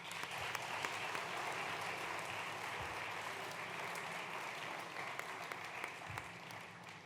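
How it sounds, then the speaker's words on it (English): Audience at a student-athlete banquet applauding professors, a dense steady clapping that runs the full stretch at a fairly even level from a sizeable crowd. "can we please have a huge round of applause for all of our professors?"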